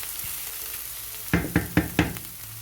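Onions brown in olive oil over medium heat, a soft sizzle at first, then four evenly spaced, loud scraping stirs against the pan.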